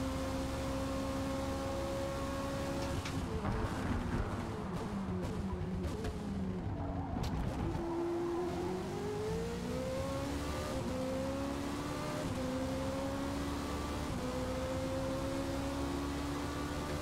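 Race cars roar in a tight pack during close racing in a video game, engines droning steadily with shifting revs and passing whines, loud and continuous throughout.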